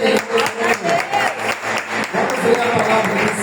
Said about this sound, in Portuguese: Aplaude Jesus aqueles que puderem.